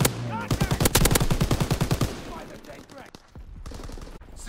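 Call of Duty: WWII match with a rapid burst of MG machine gun fire, loud and close for about two seconds, followed by scattered distant shots and game noise.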